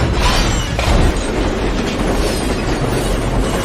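Heavy train rolling fast along rails in an action film about a runaway freight train, a loud steady rumble with clattering wheels and a brief louder surge near the start, no voices.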